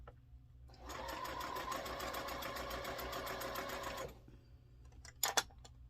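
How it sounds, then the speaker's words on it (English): A sewing machine stitches down a strip for a Kentucky chain sampler quilt block in one steady, close, rapid burst of about three seconds, followed by a few small clicks and handling sounds. "I start with the very top of the strip and just sew all the way down"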